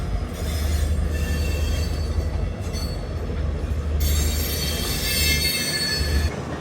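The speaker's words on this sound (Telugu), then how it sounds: "కోచెస్ కప్లింగ్ అవుతున్నాయి" Train coaches of the Mysore to Udaipur Humsafar Express being coupled, with steady rolling rumble and a thin metallic wheel squeal rising partway through, close and continuous without speech.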